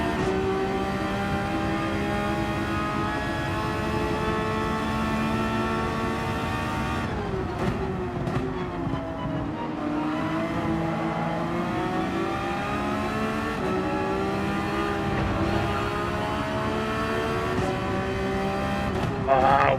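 Race car engines in Gran Turismo 7: a continuous high revving drone that rises and falls through gear changes and cornering, with talk over it.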